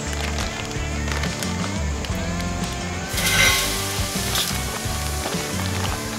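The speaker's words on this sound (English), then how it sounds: "Now we're going to take them out and place them on the cooking grid." Rum-marinated pineapple slices sizzle on the cooking grid of a Big Green Egg grill, a continuous close frying hiss that swells partway through, with no talking over it.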